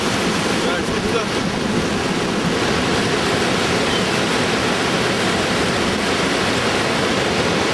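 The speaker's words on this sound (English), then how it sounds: "Just looked over the edge of a big waterfall." A big waterfall on the Zambezi River roars as a steady, dense wash of water noise, loud and unbroken throughout, with wind buffeting the microphone.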